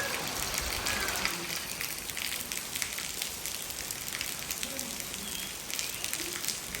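Steady rain patters across a surface in the Gir forest near Tulsishyam with a continuous wash of drops, fairly even in loudness throughout, no voices.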